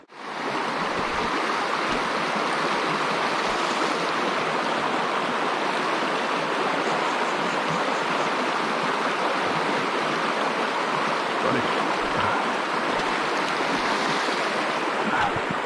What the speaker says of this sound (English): we're fishing a small creek